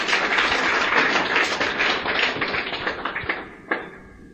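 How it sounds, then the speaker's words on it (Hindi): Audience clapping at a business seminar, dense applause at first that thins into scattered individual claps and a final thump as it dies away. "तालियां बजा दें इनके लिए एक बार।"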